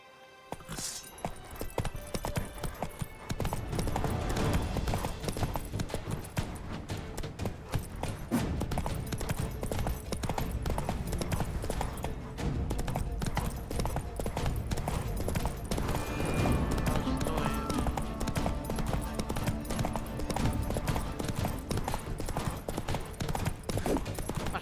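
Horse galloping during a race in The Witcher 3 video game, a fast continuous drumming of hoofbeats throughout with a busy game soundscape underneath.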